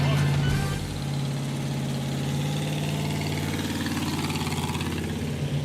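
The engine of a 1975 AMC Gremlin idles with a steady, low, throbbing rumble, close and continuous, while someone speaks over it.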